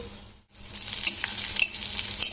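Cashews and raisins frying in a little ghee in a wok give a steady close sizzle with light scraping stirs, after a brief quiet dip at the start; no one speaks.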